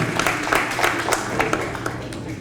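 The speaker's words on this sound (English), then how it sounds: "Let's give these guys a big round of applause." Reunion guests of the Lower Moreland Class of 1973 clap for the organizers in a short burst of applause, the claps scattered and fairly close.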